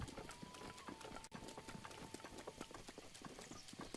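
Steady, rapid clip-clop of horse hooves at a gallop-like rhythm in the video game Breath of the Wild, continuous and fairly close, with a faint tonal hum in the background.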